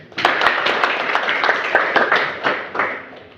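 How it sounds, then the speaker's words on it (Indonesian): An audience at a cultural tour guide training session in Manokwari, West Papua claps for a speaker, with steady, dense applause that lasts for several seconds and swells in a few sharp bursts. "Mari kita berikan aplaus untuk beliau"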